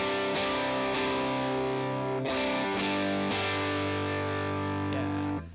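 Electric guitar run through the boost effect on a Line 6 Pod Go, played as loud, sustained distorted chords with a few re-struck changes, steady and close with no talking.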